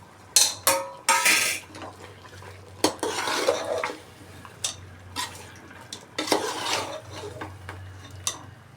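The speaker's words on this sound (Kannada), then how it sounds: "ಚೆನ್ನಾಗಿ ಈ ಥರ ಮಿಕ್ಸ್ ಕೊಟ್ಟು ಬೇಯೋದಕ್ಕೆ ಬಿಡಬೇಕು. ಆಗಾಗ ಸ್ವಲ್ಪ ಕೈ ಆಡಿಸ್ತಾ ಇರಬೇಕು." Tomatoes being stirred into frying masala for chicken biryani, with a spoon repeatedly scraping and clanking against the pan in loud, irregular bursts over a faint sizzle, no voices.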